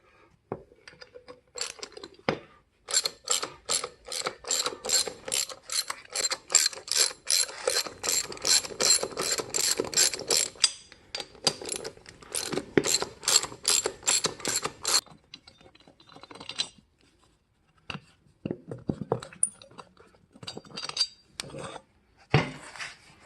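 A hand ratchet works wheel nuts loose on a go-kart buggy, with bursts of rapid, sharp metallic clicking in close, repeated strokes and short pauses between them.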